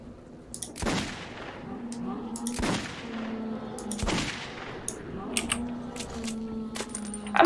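Gunfire in the video game Metro 2033: several sharp, separated shots ring out at irregular intervals over a low background hum, each followed by brief metallic clinks, with no voice talking over them.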